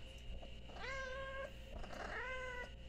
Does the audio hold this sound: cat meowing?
yes